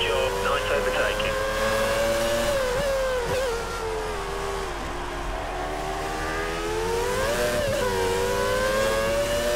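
A Formula 1 car engine in the F1 2013 video game at Catalunya, 1990s classic mode, screams continuously at high revs with rising and falling pitch as it accelerates out of a corner, loud and steady throughout.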